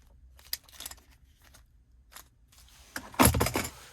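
The key fob of a 2026 Ford Maverick Lariat is handled at close range: scattered small jangles and clicks, with a louder rattling burst near the end.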